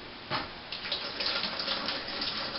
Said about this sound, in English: Let me rinse my hands for a second.